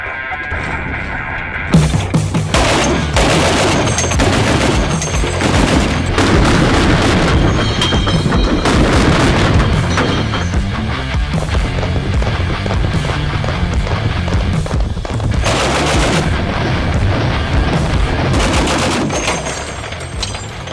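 A mounted gun on a Cybertruck converted into a Halo Warthog fires in loud, sustained rapid bursts with booming reports, close and continuous for most of the stretch.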